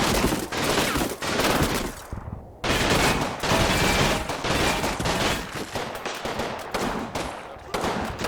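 Dense, continuous gunfire from an anti-tank crew in the video game Combat Mission Final Blitzkrieg, rapid overlapping shots with one brief pause.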